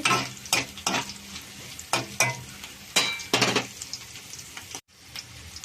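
Dried prawns fry in a pan for an okra stew, a light sizzle under repeated quick bursts of spatula scraping and tossing, spaced irregularly and close up, with a brief dropout near the end and no speech.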